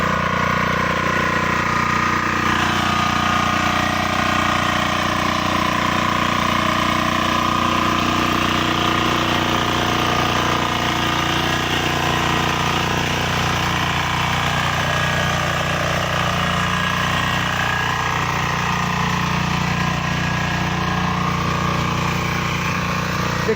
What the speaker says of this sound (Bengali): এটা বারো হর্সের ইঞ্জিন